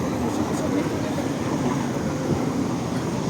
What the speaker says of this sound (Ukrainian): Трамвай сімка.